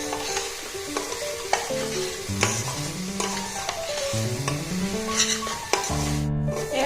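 Masoor dal sizzles and fries in a pressure cooker while a metal spoon stirs and scrapes, sharp clinks against the pot cutting through the steady crackle.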